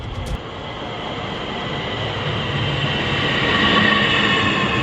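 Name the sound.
train riding on rails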